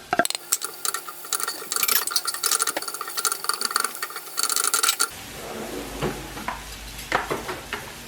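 Garlic and onions sizzling in a pan while being stirred, a close, busy crackle with rhythmic scraping that fades to a quieter sizzle with a few soft clinks partway through, no speech.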